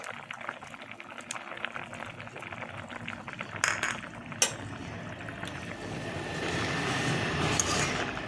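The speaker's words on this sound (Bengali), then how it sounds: "দেখুন বন্ধুরা, ঝোলটা ফুটে উঠেছে, এখন এর মধ্যে দিয়ে দেবো পনিরগুলো" Curry gravy for a vegetarian paneer dish bubbles at a steady boil nearby while paneer pieces are dropped in, with a few soft splashes and clinks over the continuous burbling.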